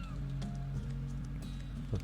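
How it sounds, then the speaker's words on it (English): A bird honks in the video game Endless Ocean, with short goose-like calls over a steady low ambient drone. Both the calls and the drone are fairly faint. "Oh, hey, other bird."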